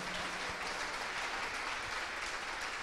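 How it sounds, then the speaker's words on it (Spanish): Applause from a congregation at an ecumenical religious gathering, a steady, moderately faint wash of clapping that holds evenly throughout. "Aplauso para el hermano Francisco"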